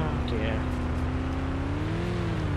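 Vehicle engine from the video game PlanetSide 2 drones steadily with a rising and falling pitch, loud and continuous throughout, while voices talk over it.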